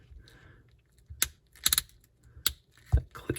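Joints of a NECA Alf Ultimate action figure clicking as the limbs are moved, sharp separate clicks and snaps in an irregular sequence with quiet gaps between them.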